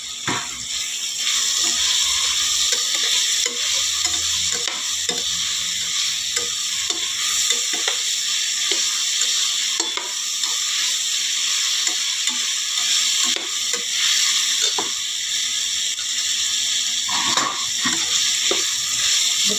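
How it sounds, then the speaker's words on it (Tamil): Potato, carrot and beans sauté in an oily pan for vegetable biryani, a steady loud sizzle broken by scraping clicks of a spoon stirring against the metal. "இது கொஞ்சம் நல்லா வதங்கி வரட்டும்."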